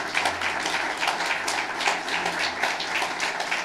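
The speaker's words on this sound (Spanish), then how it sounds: "ese aplauso estuvo prolongado" Audience applause in a church gathering, a steady wash of many hands clapping that stays loud and even for the whole stretch, with a faint low hum underneath.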